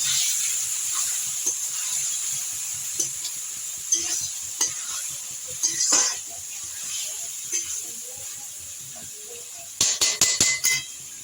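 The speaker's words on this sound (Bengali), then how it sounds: "দিয়ে এই পেঁয়াজ আর আদা রসুন বাটা একটু ভালো করে কষে নেব।" Onion, tomato and ginger-garlic paste fry in a pan with a constant sizzling hiss, punctuated by repeated spatula scrapes and taps, growing busier near the end.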